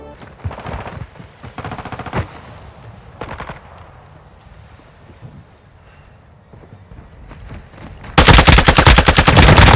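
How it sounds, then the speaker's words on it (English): Gunfire in the video game Call of Duty DMZ, scattered distant shots and bursts, then a loud sustained close automatic burst at the end. "They're shooting in front of me just over the hill"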